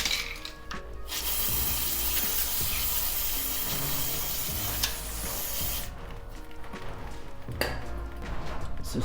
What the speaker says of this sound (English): Let's get this sprayed off a little bit.